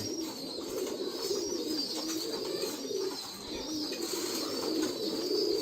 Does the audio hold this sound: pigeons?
yes